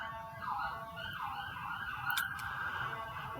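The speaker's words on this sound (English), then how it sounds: "ambulance" A wailing ambulance siren rises and falls repeatedly in the distance, fairly faint, with brief higher chirps partway through.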